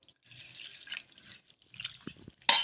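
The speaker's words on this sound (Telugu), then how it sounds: "ఇలా ఈ అటుకుల్ని ఒక 2 సార్లు అయితే బాగా కడిగేసుకుందాం." Flattened rice (poha) being rinsed by hand in a bowl of water for coconut idli, with soft intermittent splashing and dripping, close and fairly quiet, ending in a brief louder slosh.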